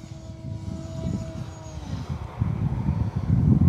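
A Horizon Hobby Timber X V2 RC plane flies with full landing flaps, its electric motor whine rising and falling with a pitch glide as it passes, over steady outdoor wind rumble.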